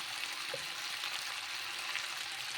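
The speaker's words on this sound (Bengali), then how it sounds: "দিয়ে ভালো করে আর একটু নেড়ে ছেড়ে কষিয়ে নেব" Taro and prawns with salt and turmeric frying in a pan, a faint, steady sizzling hiss with a soft stir or two, quiet and close.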